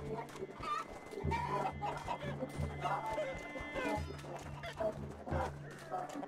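Cartoonish chickens cluck and squawk in the TABS battle game, several birds calling in quick bursts over busy game noise and low rumbling effects.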